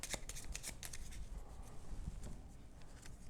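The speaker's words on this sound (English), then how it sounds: "They're going to shuffle their deck first and take their turn as normal." A deck of cards is shuffled in a quick riffle, a dense papery flutter that starts with sharp snaps and continues evenly for a few seconds, close and fairly quiet.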